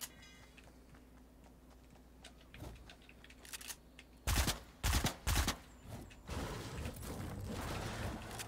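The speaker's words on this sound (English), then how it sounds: "Shooting at nothing, don't worry about it." Gunfire outdoors, a few short bursts of loud, sharp shots clustered in the middle after quiet clicking and handling noises, followed by a rougher, noisier stretch.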